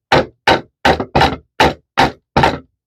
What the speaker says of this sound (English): just get a hammer